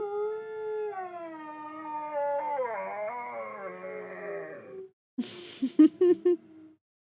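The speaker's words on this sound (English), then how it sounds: "he will wake up if it goes on long enough and start howling, like, while lying down" A dog howls along with music, giving a long, wavering, close-up cry that rises and falls for several seconds. After a brief pause come a few shorter yelping howls.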